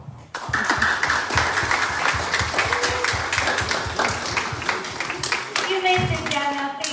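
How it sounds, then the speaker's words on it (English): Students at a school graduation ceremony clap for their parents, a dense, steady round of applause that fills the hall, with voices murmuring beneath and a few louder calls near the end. "So please, students, let's applaud for the amazing parents you have."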